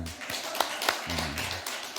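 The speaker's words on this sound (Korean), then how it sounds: "우리 격려의 박수" Scattered hand claps from a church congregation at a Sunday worship service, a brief, thin patter of taps at moderate distance with faint voices around them.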